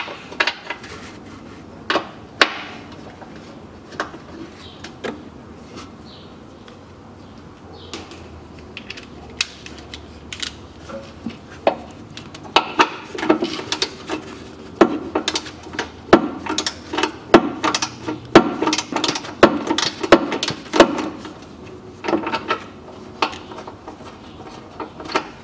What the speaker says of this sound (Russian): Но сейчас болт выкрутим и резьбу почистим